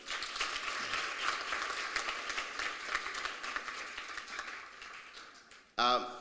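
Audience applause at a heritage education colloquium, steady dense clapping that fills the room for several seconds, then a voice briefly starts speaking at the end.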